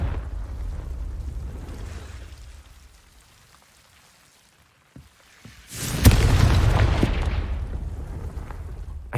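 The Confringo fire spell bursts in the Hogwarts Legacy game with a sudden loud explosive blast, then a rumbling, crackling roar that carries on after a quiet lull, with no talk.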